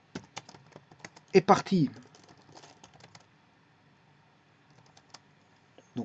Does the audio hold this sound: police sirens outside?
no